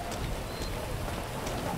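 Light rain starting to fall outdoors, a steady soft hiss of drops pattering on surfaces that stays even throughout with no voices.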